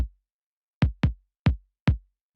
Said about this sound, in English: So all the kicks sound like,